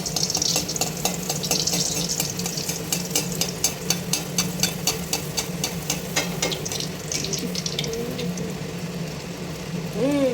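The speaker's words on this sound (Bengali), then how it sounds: "এই যে এখানে লুচি বেলা হয়ে গেছে, আরও বাকি আছে, লুচি ভাজা হবে।" Luchi, puffed flatbread, deep-frying in hot oil gives a steady, close bubbling hiss with rapid crackles and spatters, continuing without pause and without any talking.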